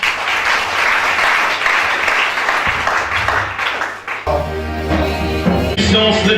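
A church congregation applauding God, loud dense clapping throughout, which gives way in the last seconds to music and voices.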